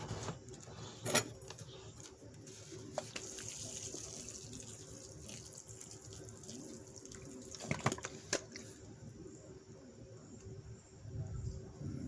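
Water pours steadily into a potted plant for several seconds, a soft continuous splashing with a few faint clicks and drips, recorded up close.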